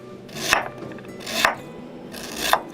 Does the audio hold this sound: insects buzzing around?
no